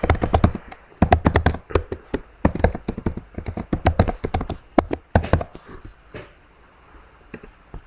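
Typing a password on a Mac keyboard: a close, dense run of crisp key taps in quick bursts with brief pauses, tapering to a few scattered keystrokes and near quiet at the end.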